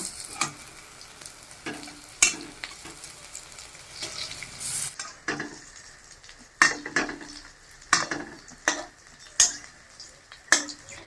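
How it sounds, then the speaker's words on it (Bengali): Pea fritters fry in mustard oil in a wok with a steady sizzle, broken by repeated sharp scrapes and clinks of a spatula stirring and turning them, close and clear with no talk. "আমি এখন মটরশুঁটির বড়াগুলো ভাজে নেব।"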